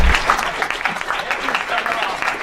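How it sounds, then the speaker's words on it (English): Audience applause at a student electoral debate, a steady spread of clapping filling the room for a couple of seconds at moderate loudness. "we should give a round of applause to these guys at the"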